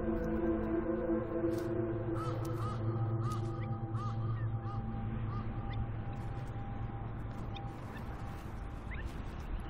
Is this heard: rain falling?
no